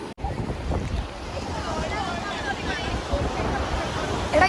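Sea waves wash onto a beach on a college camp outing, with continuous surf and wind buffeting the microphone under scattered background voices.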